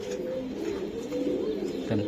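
Domestic pigeons in a breeder's collection, including a male Prince Kamagar, give soft, rolling coos at close range, a low, throaty murmur repeating steadily with no talk.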